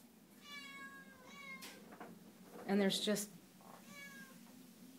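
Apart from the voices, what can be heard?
cats meowing among rescued rabbits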